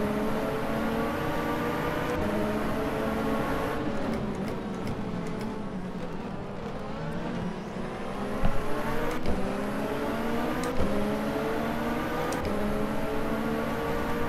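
Gibson 015S sports prototype race car in rFactor 2 at Matsusaka, its engine droning loud and steady throughout with rising and falling pitch, gear shifts and brief revving bursts.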